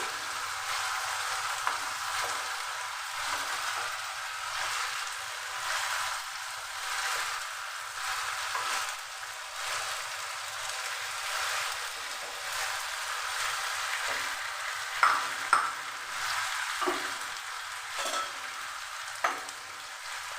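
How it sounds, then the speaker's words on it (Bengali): Fried silver carp fish pieces go one by one into hot, spiced oil, giving a steady, dense sizzle and crackle throughout, with a few sharper pops and spatters near the end. "এর মধ্যে আমি দিয়ে দেবো এবার ভাজা মাছগুলোকে একে একে দিয়ে দিচ্ছি।"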